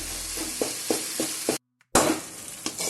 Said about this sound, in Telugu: అడుగు అంటకుండా ఇలాగ బాగా ఫ్రై చేసుకోవాలి